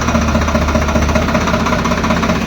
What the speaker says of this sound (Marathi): हा एक लच इकडं लच हळूहळू सोडला का ट्रॅक्टर पुढे चालायला